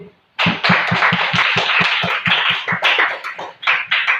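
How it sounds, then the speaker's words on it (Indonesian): A classroom of students claps together for a classmate, a quick rhythmic burst of hand claps after a short silence, near and fairly loud, with brief pauses and a few uneven claps toward the end. "Oke, tepuk tangan untuk Adit."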